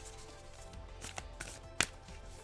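Tarot cards riffled and shuffled by hand, a thick deck, soft rapid flutters building to a sharp snap, close and quiet with no talking.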